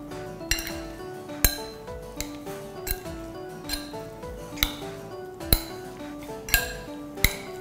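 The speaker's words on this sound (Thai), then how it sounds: "แล้วคลุกเคล้าให้เข้ากันนะคะ" Marinated pork is tossed with soy sauce, salt and pepper in a bowl, giving a steady rhythm of sharp utensil clinks against the bowl, close and fairly quiet, with no talking.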